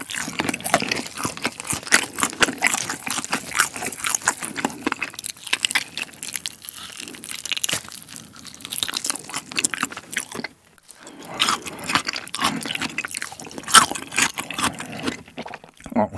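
Crunchy Goobne chili pepper fried chicken being eaten up close in a mukbang, with steady bites, crisp crunching and chewing through the clip and a brief pause near the end.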